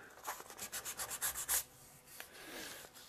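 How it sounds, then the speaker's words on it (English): Wood furniture rubbed with 220 grit sandpaper by hand: about ten quick rhythmic back-and-forth scrubbing strokes up close, then a softer, slower rub. "So I'm using a 220 sand grit sandpaper here,"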